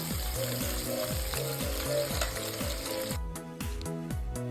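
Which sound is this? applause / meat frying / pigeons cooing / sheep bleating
meat frying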